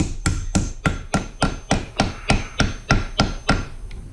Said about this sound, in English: bang it with a hammer.